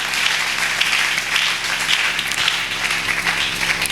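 A church congregation applauds, a loud, dense, sustained wash of clapping from many hands filling the room, with no speech over it.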